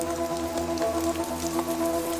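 Rain falls on leaves in a garden where hummingbirds bathe, a soft, steady patter of drops with faint scattered ticks, fairly quiet and continuous, with no voices.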